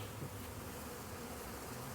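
A steady, dense buzz of Italian honey bees from a package being installed in a backyard hive hums continuously, close and fairly quiet.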